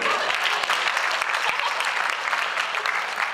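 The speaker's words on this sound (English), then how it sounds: "Make some noise for Ginny Weasley." Loud, dense crowd applause with scattered cheers, sustained steadily throughout without pause.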